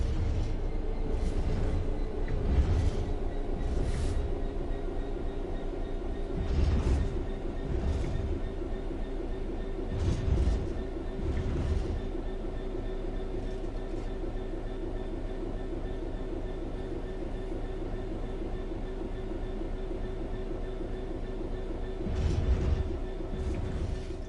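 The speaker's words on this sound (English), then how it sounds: "The train will then coast on level ground" A train in Train Sim World 3 coasts steadily along level rails with a low continuous rumble and occasional soft clunks from the wheels, no talking.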